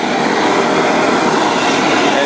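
A hot and cold water trailer-mounted twin-engine sewer jetter runs outside, giving a loud, steady broadband roar of engine and pressurized water spray that holds constant with no pauses.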